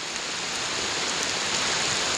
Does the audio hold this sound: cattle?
no